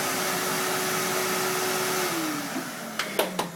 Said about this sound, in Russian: Выключи пылесос.